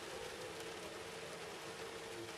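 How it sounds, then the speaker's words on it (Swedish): Rain falls outside at a summer festival, heard from inside a small booth as a faint, even hiss that stays steady from start to finish with no other sounds. "Som ni kanske hör så regnar det här ute."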